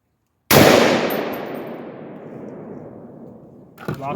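A single loud close rifle shot from a Palmetto AR-10 firing 150 gr .308 rounds, with a sharp crack followed by a long fading echo and a metallic click near the end.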